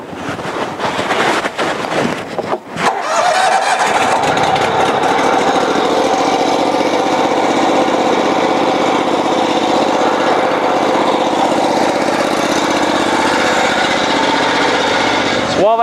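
Small gasoline engine on a cold water jetter, choked and pull-started, with a few rough tries before it catches and settles into a loud, steady roar that runs on close by.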